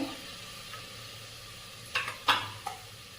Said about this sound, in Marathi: हे सगळं साहित्य छान परतून घेऊया